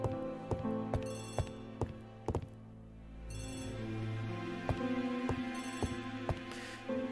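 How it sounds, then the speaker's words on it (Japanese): A telephone rings in the Agatha Christie ABC Murders video game, with repeated bursts of bright ringing over a steady background of game music and other in-game sounds. "電話ですな。"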